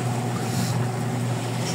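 A sailboat motoring at sea under engine power produces a steady low drone blended with broadband wind and water rush, continuous and close throughout.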